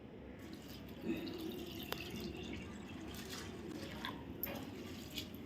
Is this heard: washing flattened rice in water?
yes